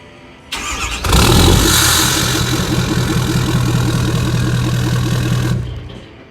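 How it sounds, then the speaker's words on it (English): A lifted 2016 Ford F-250 Lariat 4x4 with a 6.7L Powerstroke turbo diesel and a full 4-inch MBRP exhaust starts up, then settles into a loud, close, deep rumbling idle before cutting off. "Full 4-inch MBRP exhaust. I'm gonna let you guys hear it."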